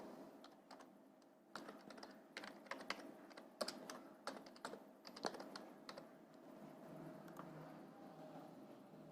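Keys clatter on a computer keyboard while data is entered into an Excel spreadsheet, coming in short irregular bursts of quick clicks with brief pauses, close and fairly quiet.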